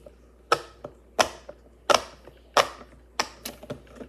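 Sharp plastic clicks from the loud side of a fidget toy snap out one at a time in an uneven rhythm, about seven or eight close, crisp clicks, some followed by softer secondary ticks.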